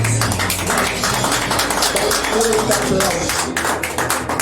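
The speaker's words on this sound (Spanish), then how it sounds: "Dale un fuerte aplauso." A church congregation claps loudly in a sustained burst of sharp, closely packed hand claps that fill the space, with a murmur of voices underneath.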